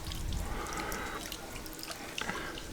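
A garden water feature at a patio villa trickles and drips steadily with soft, continuous splashing and faint outdoor background noise, no voices.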